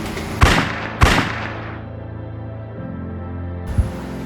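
Two loud gunshots ring out close together in a short film about the G30S/PKI events, then a lingering hum follows before a third, softer shot near the end.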